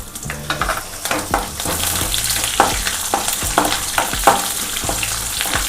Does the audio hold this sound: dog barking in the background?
no